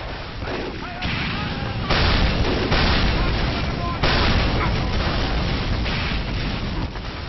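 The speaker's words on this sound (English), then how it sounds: "I'll just use a rocket launcher anyway" Rocket launcher firing and explosions in Team Fortress 2, heavy booming blasts that come in bursts over a dense, chaotic battle din, loud and close.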